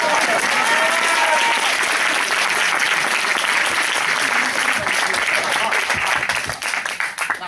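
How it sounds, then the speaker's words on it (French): A crowd at a reggae festival applauds loudly and continuously after a dance performance, then the clapping thins out and fades toward the end. "Applaudissez pour Fakri, à la danse."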